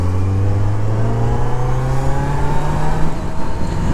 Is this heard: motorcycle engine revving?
yes